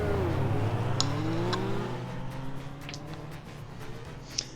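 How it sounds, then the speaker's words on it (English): Legends race cars with 1250cc motorcycle engines circle an oval track at Hednesford during a final. Their engines make a steady, buzzing drone with rising and falling pitch as several cars run together at a moderate distance, without a break. "Motorcycle engines, 1250cc engines in these machines"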